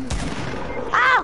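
A single booming gunshot from a video game fires at the start of the clip, loud and close, and is followed by brief game noise that trails off.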